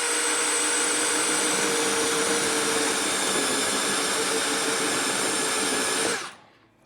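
A DeWalt DCD701 12V brushless cordless drill whines loudly at a steady pitch for several seconds while drilling a hole, then stops abruptly and winds down.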